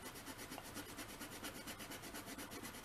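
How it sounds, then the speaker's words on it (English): Rapid back-and-forth rubbing over the metal staples of a comic book while dry cleaning it, a close, steady, rhythmic scratchy friction repeating about five times a second with no talk. "rub back and forth over the staples, and you'll get a little dirt off of them"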